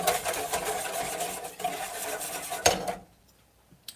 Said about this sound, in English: I'm giving the milk a stir.